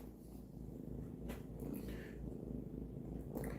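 A cat purrs steadily close by, a low continuous rumble with no talking over it.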